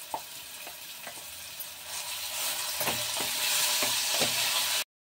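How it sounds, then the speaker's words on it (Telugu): Meal maker soya chunks fry with onion in a pan, giving a steady close sizzle that grows louder, with several sharp scraping clinks as a spoon stirs them. "ఇప్పుడు మిల్ మేకర్ అనేది మనం ఇందులో వేసేసుకొని కొద్దిసేపు ఫ్రై చేసుకోవాలి"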